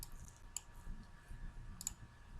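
A computer mouse clicks on a column while editing spreadsheet data: two crisp, quiet clicks about a second apart over a faint, low background hum.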